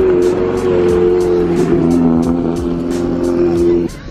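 A Subaru STI engine at a race track idles loudly and close by, a rough rumbling burble with steady harmonic drone and regular popping pulses, before dropping off sharply near the end; background voices may sit under it.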